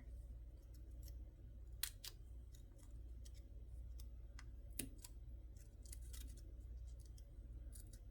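Pre-cut shapes pressed out of colored paper give small, sharp crisp snaps and tearing ticks at irregular intervals, close by over a low steady background hum.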